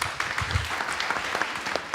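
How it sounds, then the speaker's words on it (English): A crowd applauds a panel of speakers steadily, dense clapping filling the space at moderate volume with a few louder claps standing out. "Can we give a round of applause to our panelists?"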